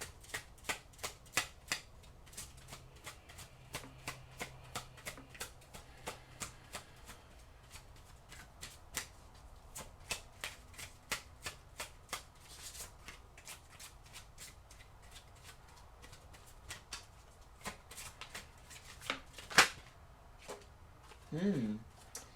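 Oracle cards shuffled by hand in quick irregular riffles and soft slaps, close and crisp, repeating across the whole stretch, with a brief bit of talk near the end.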